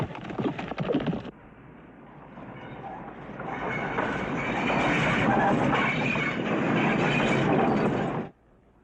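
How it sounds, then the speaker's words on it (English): Train running on rails in an American Western, a loud steady rumble and rattle that builds after a brief cut and holds for several seconds before stopping abruptly. "Train."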